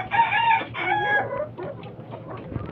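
Gamecock chicks and fowl cluck and squawk close by in a short burst of loud calls, tapering into softer clucks and faint rustling.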